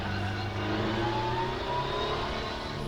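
A race car engine in an Assetto Corsa or rFactor 2 lap at Croft circuit, holding a steady loud drone with a slight rise in pitch, continuous and close with no talking.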